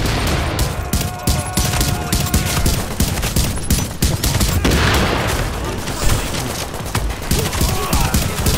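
Dense bursts of rapid gunfire and echoing shots fill a firefight while a sniper is taken out in The Division's Blackout global event, loud and nearly continuous throughout.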